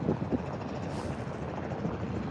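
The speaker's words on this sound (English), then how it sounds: "we have a helicopter there" A helicopter flies near an airfield circuit, a low steady rotor rumble at moderate distance, mixed with some wind noise and no speech.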